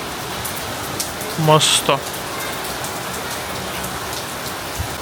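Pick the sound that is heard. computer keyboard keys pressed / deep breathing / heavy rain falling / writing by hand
heavy rain falling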